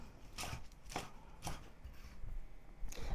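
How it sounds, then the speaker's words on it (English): A knife chopping Chinese broccoli (gai lan) into small pieces on a cutting board, several crisp evenly spaced thuds about half a second apart, close and quiet. "cutting it into small pieces is the best way to let the green vegetable absorb the flavor of the garlic and ginger"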